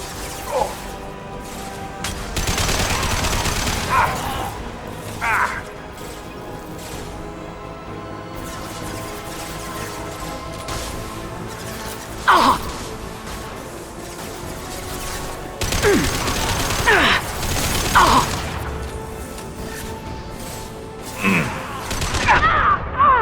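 Gunfire and heavy impact shots in the sci-fi shooter Mass Effect 2, scattered bursts, crashes and sharp hits over a busy battle background, with brief game voices cutting through between the blasts.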